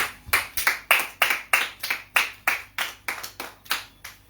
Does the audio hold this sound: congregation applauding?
yes